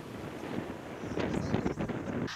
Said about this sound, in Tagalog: mabatyaga na ang kakusog sa huros sa hangin ug kadagko sa bawd sa may Cordova Port